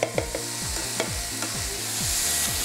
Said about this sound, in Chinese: 炒一炒佢咧，等佢啲香味出曬嚟喎。